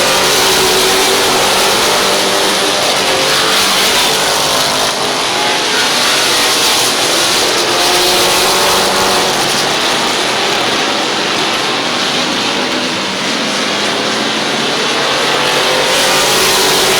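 Race cars roaring around the dirt oval at Midvale Speedway, a loud continuous wall of engine noise with revving surges as the field passes, sustained throughout without talk.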